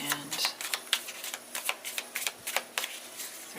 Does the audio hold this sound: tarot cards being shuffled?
yes